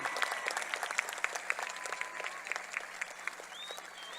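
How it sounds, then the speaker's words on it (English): An audience at a high school class of 2025 graduation ceremony claps for the top graduates, a moderate, somewhat distant patter of many hands with a few louder individual claps, sustained briefly without talk. "let's give a huge round of applause to our top 10 graduates for the class of"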